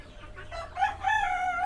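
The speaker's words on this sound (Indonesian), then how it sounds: "itu adalah jenis namanya ayam mutiara" Guinea fowl (ayam mutiara) call on a KUB chicken farm: a couple of loud, harsh, rising fowl calls, close by and stacked together, with no speech.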